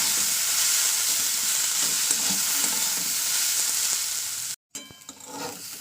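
Vegetables fry over low gas heat in a pan, a dense steady sizzle with soft scraping stirs throughout, briefly cutting out near the end before resuming more quietly.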